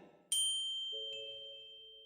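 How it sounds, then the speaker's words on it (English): A small bell rings in a quiet horror-story scene: a bright metallic ding strikes once, followed shortly by a second lower chime, both ringing out and slowly fading with no voices. "the sound we had heard was from a bell she was holding"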